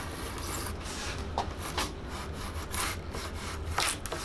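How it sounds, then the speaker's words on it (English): Close scraping and rasping as a hand trimmer cuts along thin wood veneer edges, in repeated uneven strokes with no talking. "Then you use this handy little trimmer to trim off the edges of the veneer."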